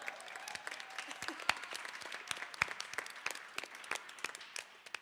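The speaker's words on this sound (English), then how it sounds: "So please give him a round of applause." Audience at a songwriters' circle concert claps steadily with dense, irregular hand claps, moderately close, sustained for several seconds.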